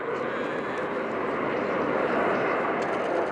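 Aermacchi MB339 jets of the Frecce Tricolori aerobatic team roar steadily overhead at the RIAT 2018 Fairford airshow, a loud continuous broadband jet rush with no speech.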